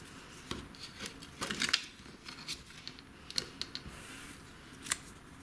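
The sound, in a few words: scissors cutting off thread ends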